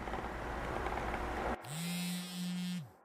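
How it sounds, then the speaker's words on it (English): A phone vibrates against a nightstand in a steady, harsh buzz. It starts abruptly after a wash of fan-like noise, runs in two close pulses with a brief dip between them, then stops. "You're jolted awake by the harsh buzzing of the phone on your nightstand."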